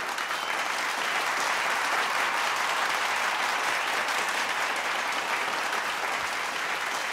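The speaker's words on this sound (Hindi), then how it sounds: "करीब 2 मिनट तक लगातार तालियां बजती रहीं।" Sustained, dense audience applause following a speech at a large gathering, steady and loud for the whole stretch without pause, with no speech over it.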